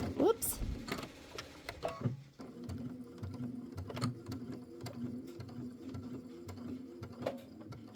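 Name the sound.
sewing machine stitching a quilt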